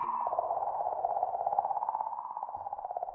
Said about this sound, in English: That is the sound of a comet.